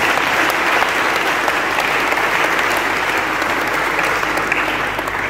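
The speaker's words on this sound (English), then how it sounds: "Clap for yourself." A large congregation claps at a Mothering Sunday church celebration, loud sustained applause filling the hall without a break from start to finish.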